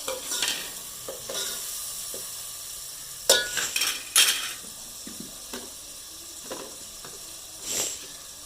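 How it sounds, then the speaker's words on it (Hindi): Chopped tomatoes and green chilies go into frying masala in a home kitchen, giving soft sizzling with several sharp scrapes and clinks of a spoon stirring against the pan, close and intermittent. "टमाटर डालेंगे, टमाटर और हरी मिर्ची"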